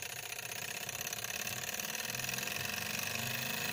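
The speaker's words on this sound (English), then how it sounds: "starting engine" A Stirling generator engine runs up as it starts, a loud, dense mechanical whir with fast rhythmic pulsing throughout, close by and without voices.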